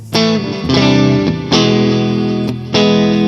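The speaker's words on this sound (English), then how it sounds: "for me, that sounds like a perfectly nice chimey tone" Electric guitar through a Vox AC30 amp plugin with a chimey tone, playing a few ringing strummed chords in sequence, each sustaining with bright harmonics and a slight shimmer of effects.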